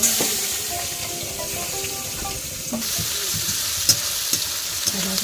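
Green chili, onion, ginger and garlic frying in oil left over from frying potatoes, giving a loud, continuous sizzle with scattered stirring scrapes and pops up close.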